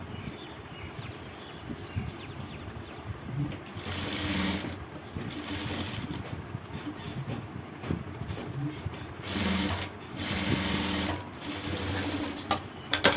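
A sewing machine stitches a kameez neckline in close, steady runs of rapid whirring, pausing briefly between bursts, with a faint background voice.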